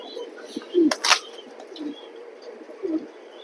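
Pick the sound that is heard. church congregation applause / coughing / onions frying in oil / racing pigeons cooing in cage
racing pigeons cooing in cage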